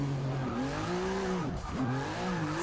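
A rear-wheel-drive Subaru STI build in Forza Motorsport 6 revving hard in a tight walled space, with the engine note rising, dipping briefly during a shift, then climbing again, loud and close with a touch of tire squeal.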